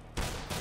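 An AK rifle firing in Counter-Strike: Global Offensive, two loud, sharp gunshot blasts in quick succession, close and alone with no talk.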